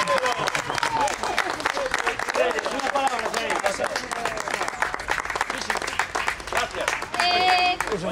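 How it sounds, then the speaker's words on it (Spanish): Audience applause at an award ceremony rolls on throughout, fairly loud and dense, while an announcer keeps talking over the clapping and a few whistles or cheers cut through near the end. "Un aplauso para ella."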